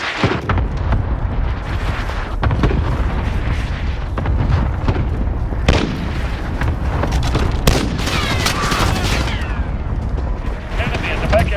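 Video game gunfire from a Sykov automatic pistol and an MP5 with low recoil, dense bursts of shots and booms throughout, mixed with game voice callouts and radio chatter.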